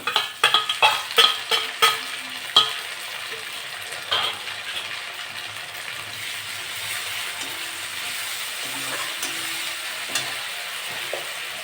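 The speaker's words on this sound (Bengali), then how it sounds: "পেঁয়াজটা একটু লাল লাল ভেজে নেব পেঁয়াজটা একটু ভাজা ভাজা হয়ে গেছে লাল লাল আমি আদা রসুন বাটা দিয়ে দেবো" Onions frying in a pan with ginger-garlic paste for a spicy prawn curry: several sharp utensil clanks and scrapes at the start, then a steady, moderately loud sizzle with occasional stirring knocks.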